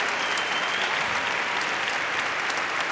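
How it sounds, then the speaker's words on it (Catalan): Audience applause at a university graduation ceremony, a dense steady wash of many hands clapping at once, fairly distant and even throughout, with no voices standing out. "els aplaudiments han sigut igual de forts"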